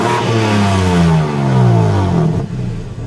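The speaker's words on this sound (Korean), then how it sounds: "제가 처음 시동을 걸었을 때 배기음도 살짝 들려드릴게요." A BMW M3 facelift with a twin-turbo V6 firing up through its twin mufflers, the exhaust rising in a revving note, holding loud and close, then settling back toward idle.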